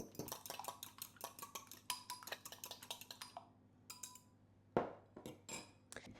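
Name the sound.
beating an egg in a bowl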